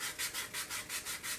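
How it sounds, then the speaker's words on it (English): Rhythmic sanding on balsa wood parts, about eight quick back-and-forth strokes with a steady scratchy rasp, close and fairly quiet. "I'm going to try sanding this."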